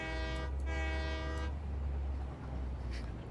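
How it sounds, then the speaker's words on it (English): Train horn honking in a train video game, two loud sustained blasts in quick succession over a constant low engine rumble, with no talk. "I did the honk, Goth."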